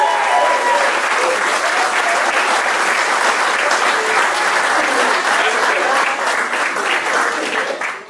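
Wedding guests applaud steadily right after a couple is pronounced husband and wife at their ceremony, a dense, loud clapping that holds throughout before tapering at the end.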